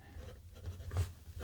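Platinum Prefounte fountain pen with a larger 0.5 mm nib and carbon black cartridge ink scratching across paper in quick strokes with frequent changes of direction, soft and close, against a low steady hum.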